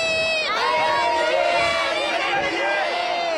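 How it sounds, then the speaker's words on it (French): An animated football match crowd cheers and roars in a continuous loud swell, with shouting and whistling tones layered on top and voices throughout. "La foule commence à s'échauffer."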